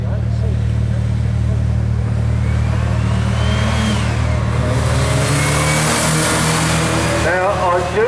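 A Morgan 4 at the Brighton Speed Trials accelerates with a loud, continuous engine note that rises in pitch as it revs. An announcer talks over the engine throughout.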